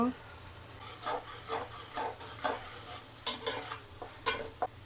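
Prawns fry in hot oil while chili powder is stirred through, a steady low sizzle under repeated rhythmic scraping strokes of the spatula against the pan, close and moderately loud.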